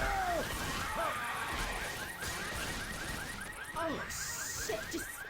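A car alarm blares in a Left 4 Dead 2 competitive match, its repeating electronic warble looping over gunfire and chaotic game noise.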